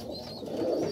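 Pigeons cooing, soft low throaty coos from a nearby flock, faint and continuous over a short moment.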